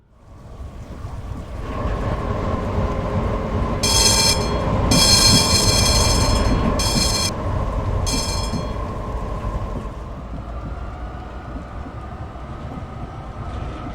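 A Frankfurt U-Bahn U5 train runs along the track in Train Simulator, with a steady rumbling roll, bursts of hissing air or brake noise midway, then an even cruising drone.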